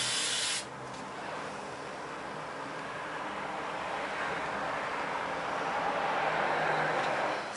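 Hairspray hisses from an aerosol can onto a victory roll hairstyle on long hair, one long continuous close spray after a brief opening burst, steady and bright throughout.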